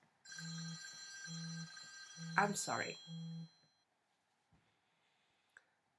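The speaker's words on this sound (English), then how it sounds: "that was just a phone call which came in between" A telephone rings with an incoming call in a home knitting and spinning setting, sounding as a steady series of evenly spaced electronic ring bursts, close and clear. A voice briefly speaks over the middle of the ringing before it stops.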